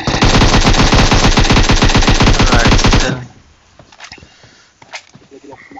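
Rapid automatic gunfire from PUBG Mobile, loud and close in a dense burst for about three seconds, then quiet game ambience with a few faint scattered shots and footsteps.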